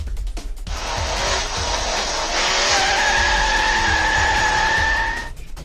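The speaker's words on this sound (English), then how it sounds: "So McGonagall starts up the taxi, puts it in drive, and speeds off." A taxi starting up and speeding off through traffic, tires squealing: a loud sustained screech with rising engine whine, holding for several seconds before cutting off, no voices.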